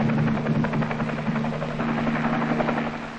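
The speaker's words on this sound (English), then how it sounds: "Three hours later, an ARVN helicopter landed." An ARVN military helicopter comes in to land, its rotor thumping in a steady rapid beat over a droning engine hum, loud and constant throughout.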